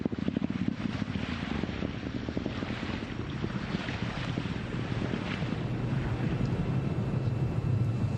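SpaceX Falcon 9 first-stage engines firing during the Crew-2 launch, a steady, dense roar with a deep rumbling low end, continuous and loud throughout with wind-like buffeting and no voices.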